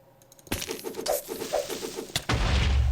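Explosion in the Minecraft video game, a sudden loud boom followed by crackling debris and a second heavy blast that rumbles on at the end.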